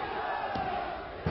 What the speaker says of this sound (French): sous les hurlements scandés de la foule dionysoise